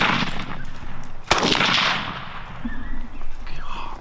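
A single sharp, loud gunshot cracks out amid outdoor rustling and wind, followed by a faint voice in the background.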